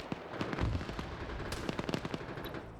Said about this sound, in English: Depso, for example, tried to move up with his marksman rifles, gets immediately shot at by a machine gunner.